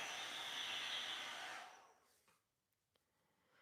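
A hair dryer blows heat onto a wig, a close steady whooshing roar that cuts off after about a second and a half, followed by faint handling sounds.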